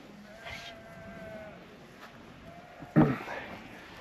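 Lambs on a sheep farm bleat in a few drawn-out calls from a short distance, with a louder burst near the end over steady background noise.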